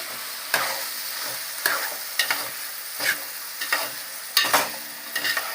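Drumstick curry with plenty of tomato pieces being stirred in a frying pan: a series of distinct scraping strokes against a steady oily sizzle, close and clear with no talking.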